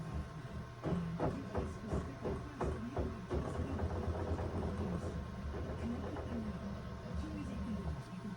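A sewing machine backstitching on an appliqué shirt, giving a steady mechanical whir with rapid rhythmic needle ticks and low motor hum, close and moderately loud throughout.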